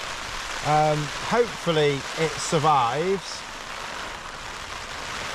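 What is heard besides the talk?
rain falling on a DCF Duomid tent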